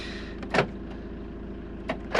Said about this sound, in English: Locks the cab and the habitation door.